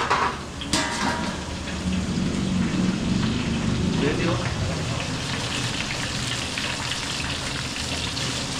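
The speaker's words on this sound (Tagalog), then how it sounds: "mag-start na tayo mag-fry ng fried chicken." Chicken sizzles and crackles in hot oil with a steady frying hiss, while a voice briefly speaks over it.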